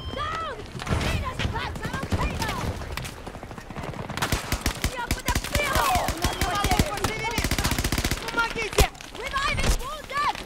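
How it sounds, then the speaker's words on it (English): Rapid bursts of automatic gunfire and single shots from a Battlefield 2042 firefight, dense and continuous, with close sharp cracks over a busy wash of distant battle noise and occasional booms. "How am I getting shot right now,"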